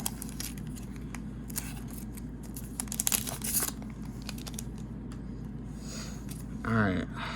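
A Pokémon Silver Tempest blister pack being cut and torn open: crinkly plastic and foil rustles and a few sharp snips, close, with a steady background hum and a brief louder crinkle near the end.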